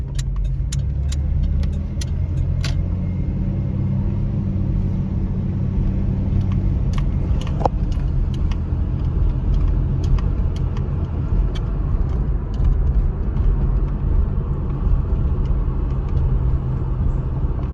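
A 1993 Ford Ranger with an automatic transmission and low mileage rumbles steadily from inside the cab while driving, a constant low road and engine drone with a few light ticks early on.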